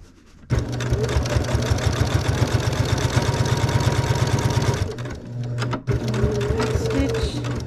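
A sewing machine stitches binding onto a quilt in a fast, steady mechanical rhythm, running several seconds, pausing briefly, then resuming close by.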